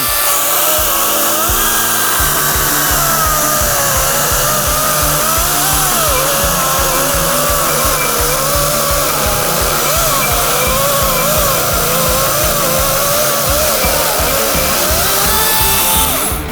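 A Wild Badger chainsaw engine roars continuously at close range, loud and steady with a rough, buzzing drone throughout.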